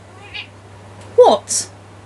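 A house cat meows loudly twice in quick succession, close and clear in an indoor room over a low steady hum.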